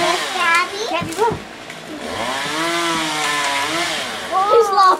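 A chainsaw trims branches off a tree near a house, a droning, wavering whine that rises and falls steadily at a distance while children talk and chatter over it.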